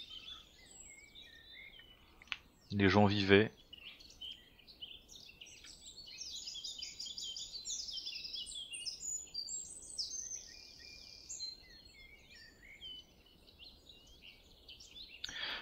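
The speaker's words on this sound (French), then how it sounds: "les oiseaux qui chantent" Birdsong outside the hospital grounds in the game The Town of Light, a continuous chorus of bright chirps and trills under a faint ambient hush, with a brief spoken line near the start.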